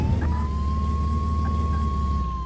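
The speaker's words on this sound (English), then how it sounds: "Oh, sirens. Oh, that's not good." An emergency vehicle siren in the game Flashing Lights sustains a steady, slowly wavering electronic tone over a low engine rumble, loud and close for the whole stretch.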